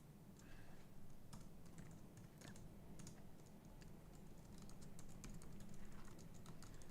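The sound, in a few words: typing on a computer keyboard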